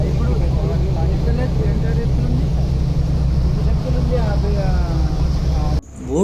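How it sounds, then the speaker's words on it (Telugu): A tour boat's engine drones steadily on Nagarjuna Sagar reservoir, a continuous low rumble with water wash, loud and close throughout, with faint voices underneath before it cuts off abruptly near the end. "బోటు ముందుకు సాగుతున్నప్పుడు మనకు వినిపించేది కేవలం ఇంజిన్ శబ్దం, నీటి అలల సవ్వడి మాత్రమే"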